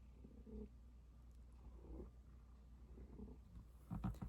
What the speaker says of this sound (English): So that sound that she makes, that is her purring.